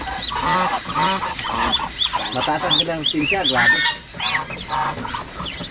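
Ducks on a provincial farm honk and quack in a busy, overlapping chorus close by, with someone talking over them throughout.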